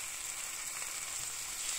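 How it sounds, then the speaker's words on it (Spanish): Leek and spinach frying in olive oil in a pan, a steady close sizzle with fine crackling that holds evenly throughout, no voices. "echamos un chorrito de aceite de oliva y sofreímos el puerro"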